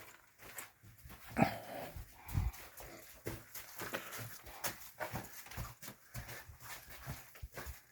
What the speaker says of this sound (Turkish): Gel, Köpek o köpek.